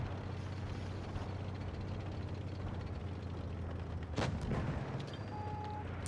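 A single tank cannon shot in World of Tanks Blitz, a dull thump standing out briefly from a steady engine rumble and background drone. The shot is moderate in level and no one talks.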